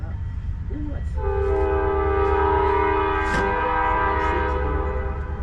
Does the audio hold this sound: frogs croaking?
no